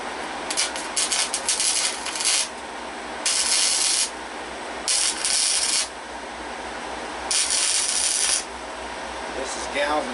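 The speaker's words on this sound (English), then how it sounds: "I'm gonna finish this little weld right here." Welding on thin galvanized steel for a tractor headache rack, with bursts of bright crackling hiss that start and stop several times, each lasting about a second or two, over a quieter shop background.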